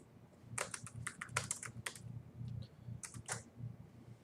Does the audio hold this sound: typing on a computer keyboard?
yes